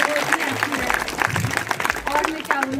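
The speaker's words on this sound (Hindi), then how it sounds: "माता जी के लिए जोरदार तालियां।" An audience at a retirement ceremony claps in a crowded burst, with voices talking over the applause.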